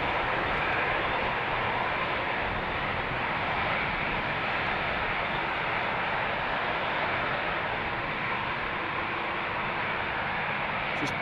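An Emirates Airbus A380 departs from runway 36L at Amsterdam Schiphol, giving a steady, broad jet roar that holds loud and unchanging throughout with no talk over it.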